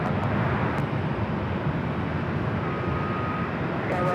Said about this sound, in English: heading back to Mexico City, a 787-9 Dreamliner, Aeromexico rolling down to 24 left.